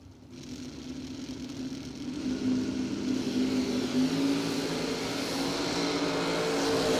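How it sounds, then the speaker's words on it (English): A Camaro drag car makes a pass at a dragstrip, its engine rising from a distant drone to a sustained loud roar that holds steady as the run goes on, with no voices. "566 for Mitchell Angeli out of Carrier Mills, Illinois, in the Camaro"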